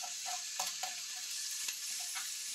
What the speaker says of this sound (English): So it's time for our beef shank to go back in.